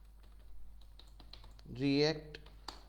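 Soft, scattered key clicks on a computer keyboard as React code is typed, faint and intermittent, with a short burst of a voice speaking in the middle.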